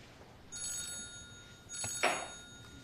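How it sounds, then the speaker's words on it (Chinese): A telephone rings indoors during a formal dinner, with two bursts of an electronic ringtone separated by a short gap. The second burst is louder. No speech is heard. "哦，接个电话。"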